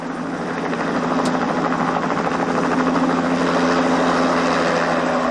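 UH-1H Huey helicopter in flight, a loud continuous rotor thrum with steady rhythmic chopping and engine whine, close and sustained with no talk.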